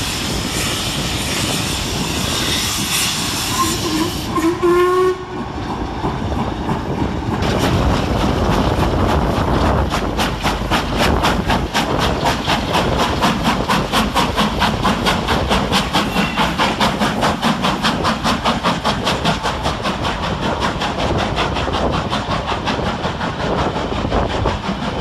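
Locomotive 47810 departs Stafford railway station hauling 45231 The Sherwood Forester, a loud, close diesel roar with a rapid throbbing pulse that builds and holds steadily throughout, with brief squeals early on.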